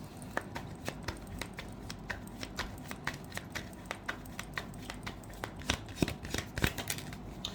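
Tarot cards are shuffled and drawn in a steady run of quick, close, crisp riffling flicks and slaps, fairly quiet, with no talking.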